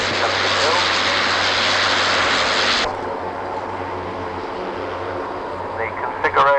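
An ATR 72 turboprop airliner flies past at the Farnborough air show, a loud propeller and engine roar that drops off sharply partway through and leaves a quieter rumble with a commentator talking over it.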